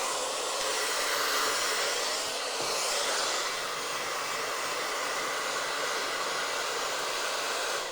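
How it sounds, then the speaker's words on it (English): A hair blow dryer roars steadily and close as it dries hair around a cowlick, a loud constant whoosh with slight shifts in pitch as the airflow moves. "kind of working that swirl with the blow dryer like this"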